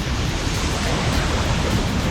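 A loud, steady roar of rushing water close by at a waterfall in Northern Thailand, a constant dense wash of spray with no pauses.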